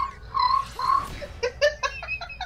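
A crickets-chirping sound effect is played as a joke: a few whistly tones, then a rapid run of short, pulsed chirps. It is close and clear, with no talking over it.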